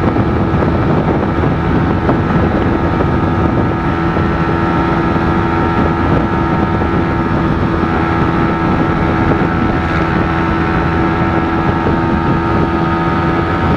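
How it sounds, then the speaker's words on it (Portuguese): A motorcycle fitted with an aftermarket exhaust and a larger piston rides along with a loud, steady engine drone and buffeting wind, unbroken and without speech. "Aí, ó, como que a moto anda, ó."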